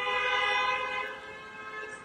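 On a busy highway, police sirens and honking car horns blare as a sustained, loud tonal wail that fades slightly over two seconds.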